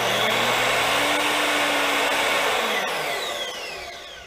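Evolution R255-SMS miter saw motor spinning up with a soft start, a loud steady whine rising gently in pitch, then winding down and fading toward the end.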